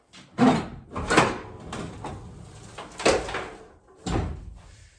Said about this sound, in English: let's drop this tailgate off